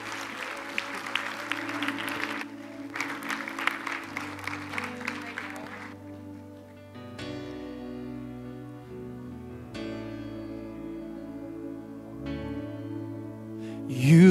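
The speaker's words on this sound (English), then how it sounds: "We're going to clap for you." A church congregation applauds in celebration, a dense wash of clapping for several seconds that drops away as sustained organ-like chords and music take over and continue.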